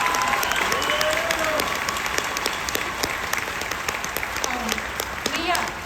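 Loud, sustained applause from a large crowd at a celebrity panel at Emerald City Comic Con in Seattle, 2022, with some voices and cheers mixed into the continuous clapping.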